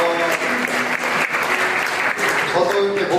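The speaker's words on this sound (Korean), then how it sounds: "또 박수 한번." A church congregation claps in sustained, lively applause, with some voices mixing in beneath the clapping.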